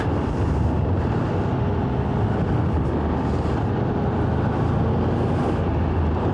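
A 2023 Triumph Tiger 1200 Rally Pro motorcycle rides over ruts, bumps and puddles, producing a constant loud rumble mixed with heavy wind buffeting, with no pauses.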